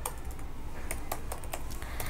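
Someone types CSS code on a computer keyboard, producing a short run of separate, crisp keystroke clicks at an uneven pace. The clicks are quiet and close, with no talking.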